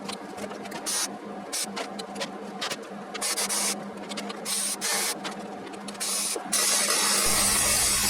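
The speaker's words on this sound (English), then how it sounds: "I'm just putting a few inches of weld spaced out because I don't need a solid weld" Steel 1/8 by 2-inch flat bar being welded as a patch on a John Deere mower, a steady crackling buzz laid down in several short bursts with brief pauses between them, fairly loud and close, with no talking.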